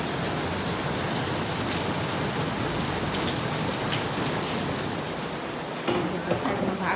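Steady rain falls in a dense, continuous hiss from start to finish, with a brief dip and a few louder drops near the end. No one speaks.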